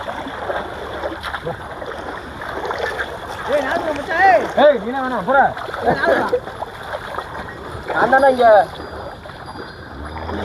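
Water splashes and sloshes in irregular bursts as a cow is bathed for Mattu Pongal, close up and moderately loud, while several people talk and call out over the splashing throughout.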